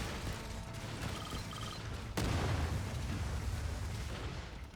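Missile launchers fire in the sci-fi survival game Stranded: Alien Dawn, a dense rumbling barrage with a sharp blast near the midpoint that keeps booming steadily to the end.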